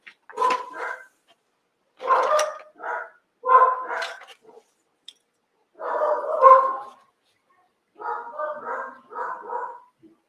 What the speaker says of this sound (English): They're gonna bark for a bit.